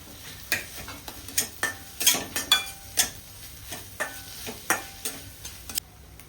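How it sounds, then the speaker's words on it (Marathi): Onion browned with a spoonful of ginger-garlic paste fries in a pan, likely for a methi bhaji. Repeated spatula scrapes and clinks fall every half second or so over a low sizzle, with no talking. "आता थोडंसं लाल झालेला आहे कांदा, त्याच्यामध्ये मी आता 1 चमचा अद्रक लसणाची पेस्ट टाकते"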